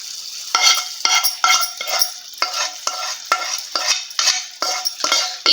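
Caramel being stirred into wheat halwa in a pan, a steady rhythm of roughly a dozen sticky, scraping strokes against the pan, close up and alone with no talk.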